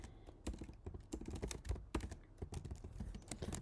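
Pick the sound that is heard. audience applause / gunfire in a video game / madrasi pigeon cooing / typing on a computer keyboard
typing on a computer keyboard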